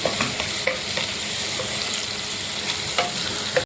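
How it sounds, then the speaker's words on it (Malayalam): Curry leaves and ripe red chillies sizzling in a pan while a spoon stirs them, with an even frying hiss broken by several sharp scrapes and clinks against the metal, close and without talk. "ഇതും കൂടെ കൂട്ടി ഇളക്കി ശകലം കൂടെ ഇളക്കി വെച്ച് എടുക്കാം"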